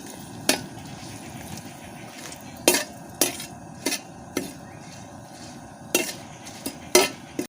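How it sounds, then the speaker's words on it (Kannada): Four dried red chillies frying in a pan for sesame seed chutney, a steady soft sizzle broken by sharp clinks and scrapes of a spatula against the metal at irregular intervals. "ಇವಾಗ ನಾನು ಅದಕ್ಕೆ ನಾಲ್ಕು ಒಣಮೆಣಸಿನಕಾಯಿನ ಹಾಕೊಂಡು ಫ್ರೈ ಮಾಡ್ತಿದ್ದೇನೆ"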